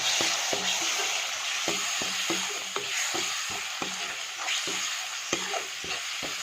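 A paste of ginger, garlic and onion fries in a pan under a constant bright sizzle, while a spoon stirs and scrapes in quick, regular strokes close by, with no one talking.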